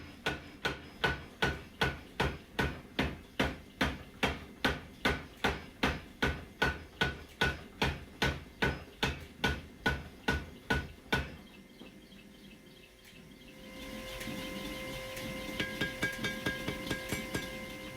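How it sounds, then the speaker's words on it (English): A hand hammer forges a steel Bolo knife blade in a fast, steady series of sharp, ringing blows, close and loud, sped up, before the strikes stop and a low background hum with faint clinks takes over. "I have doubled the speed on a lot of this hand forging just because there's a ton of it"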